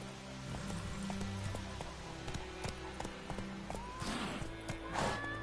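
Roach the horse galloping in The Witcher video game, with quick rhythmic hoof clops over a layered game soundscape, followed by a brief rising tone and a rush of noise near the end.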